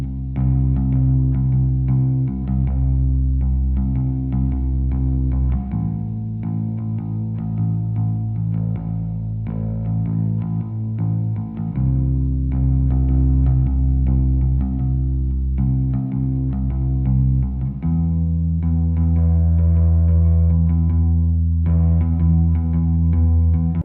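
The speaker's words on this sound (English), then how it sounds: "The bass playing for this track is super simple and it's going to sound like this." A simple shoegaze bass line, heavily processed with chorus, distortion and echo, plays a slow sequence of sustained low notes that change every few seconds, loud and alone.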